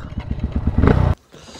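A dirt bike engine on a mountain trail road near Jumla sputters and putters in a quick uneven rhythm after the choke is pulled, rising briefly before cutting out abruptly.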